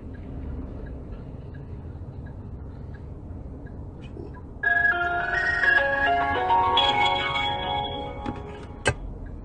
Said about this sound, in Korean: K형 왜 전화를 안 받냐